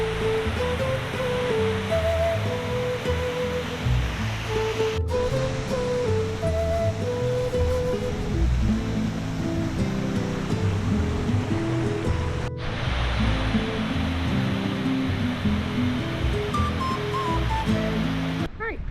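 La Cascada de Concepción waterfall near Aculco roars steadily, a broad continuous rush of falling water heard from nearby with no breaks.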